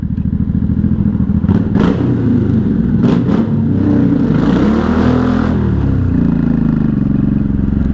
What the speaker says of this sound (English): I figured let's do a rev in the tunnel just for fun.